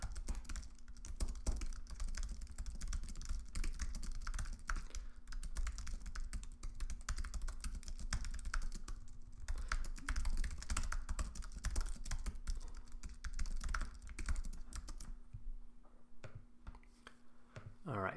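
Rapid, steady clatter of keys typing on a computer keyboard, close and continuous for the whole stretch, thinning out near the end, with no voices.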